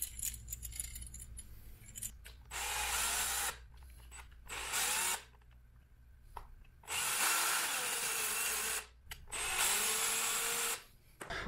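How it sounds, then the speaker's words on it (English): A hose clamp being tightened on a Bafang mid-drive e-bike motor, with several bursts of whirring driver noise separated by pauses and faint clinks of metal parts, fairly quiet and close. "So I'm starting to tighten the hose clamp"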